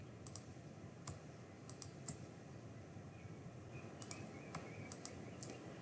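Keyboard and mouse clicks while the Control key is held in quilt design software, with scattered sharp clicks spread over quiet background hiss, faint and without speech.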